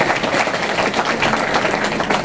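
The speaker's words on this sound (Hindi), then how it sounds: "जोरदार तालियां होनी चाहिए।" A dense wash of clapping from a crowd at a district administration event in India, steady and fairly loud throughout with no pauses.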